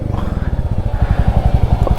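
Royal Enfield motorcycle engine thumping steadily at close range during a Sunday group ride in Delhi-NCR, a loud, even low-pitched beat running throughout with no talk.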